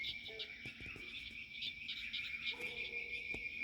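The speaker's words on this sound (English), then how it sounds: "Hear all the frogs?" Frogs croaking at night outdoors, low repeated croaks rising from a chorus alongside a constant high insect drone, with no voices present.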